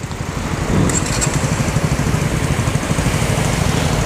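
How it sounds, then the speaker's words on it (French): A small motorcycle engine idles and runs steadily nearby on a city street, a buzzing, putt-putting drone that holds an even level throughout with no talking. "Elle est belle cette petite moto"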